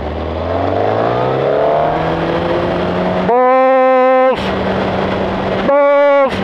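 A Suzuki GSX-R 1000 ABS motorcycle engine climbs through a loud rising rev, then holds a steady drone broken by two sharp high-pitched revving bursts, close by at a riding event.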